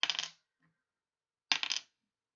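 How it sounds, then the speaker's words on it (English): A red die is rolled on a hard surface, giving two quick rattling clatters about a second and a half apart, close and clear with silence around them and no talk. "let's roll our red dice"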